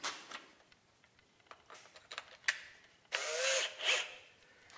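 A power drill whirs in a short burst after some clicks and handling noises, running steadily for about a second before stopping, fairly close.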